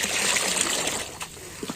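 Water trickles and splashes into a mixture of neem oil and liquid hand wash, a soft brief pour with light splattering that fades, followed by a couple of small knocks.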